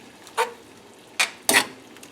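A spoon stirs pasta sauce in a pan, giving three short scraping, sizzling strokes, one alone and then two close together, against a quiet background.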